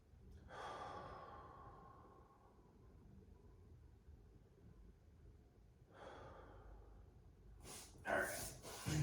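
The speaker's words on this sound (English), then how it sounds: "you need to remember to breathe" Heavy breathing during a full-body mobility stretching routine: a strong breath around the start and another near six seconds, with a louder burst of breathy noise at the end, over a quiet low background rumble.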